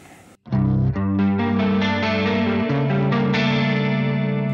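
A clean electric guitar played through a Valovirtuos impulse response rings out in sustained chords and notes with a chorus-like shimmer, heard alone and up close.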